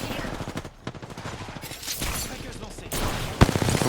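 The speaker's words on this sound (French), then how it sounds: "il y a une autre team qui tire en bas" Gunfire from another team rattles in a video game, rapid repeated bursts and shots with a sharp crack near the end, mixed under in-game clutter and a talking voice.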